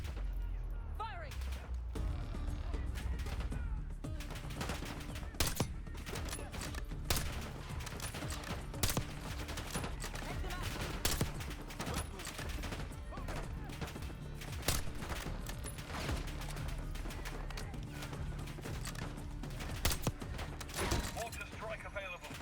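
Dense, continuous gunfire and explosions in Call of Duty: Black Ops 6, with rapid bursts and heavy booms layered over one another, loud and close throughout, with voices talking beneath.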